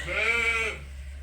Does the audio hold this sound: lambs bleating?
yes